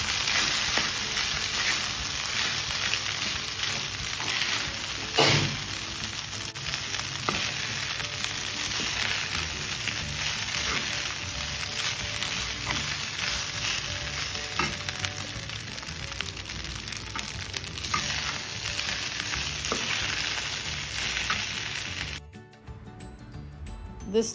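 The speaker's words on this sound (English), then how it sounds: "Add cooked daliya, mix well with all the seasoning and coconut." Cooked broken wheat (daliya) mixed with seasoning and coconut frying in a pan, a continuous close sizzle with scraping stirring sounds throughout, ending abruptly near the close.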